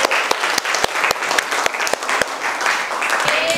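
Students in an Islamic jurisprudence class on preparing the dead clap for a classmate, loud, close hand claps in a quick, uneven rhythm that continue without stopping.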